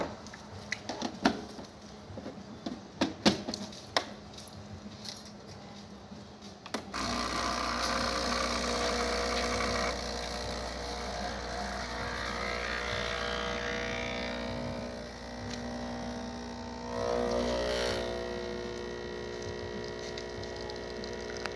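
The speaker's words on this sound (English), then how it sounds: "You can see we get a nice flow of espresso." A Breville 870XL espresso machine's pump hums steadily and loudly while pulling a shot, starting abruptly after a few seconds of quiet clicks and handling noise and continuing unbroken, with a brief swell near the end.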